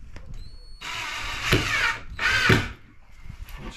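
A power drill drives a screw into a wooden floor while a rabbit hutch is being built, whirring in two bursts that rise and fall, with quieter clicks and handling noises between them.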